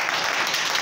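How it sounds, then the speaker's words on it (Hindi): Students at a government senior secondary school break into steady, dense applause, many hands clapping at once in a close, even wash. "ताली बजाओ।"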